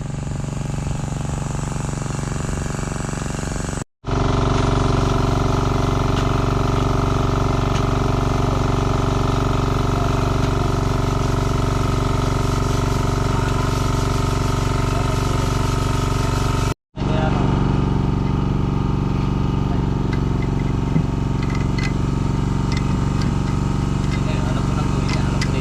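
A grass cutter engine runs steadily and loudly at close range for the whole stretch, an unbroken droning hum cut by two brief dropouts, with a person talking over it.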